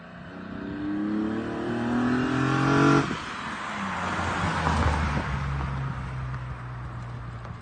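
A BMW E36 engine with individual throttle bodies revs up with rising pitch, drops off sharply, then settles into a rumbling idle nearby.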